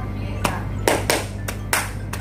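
Students in a classroom perform the "tepuk salut" clap, a set of about six crisp, separate group claps in an uneven rhythm, heard close over a faint room hum.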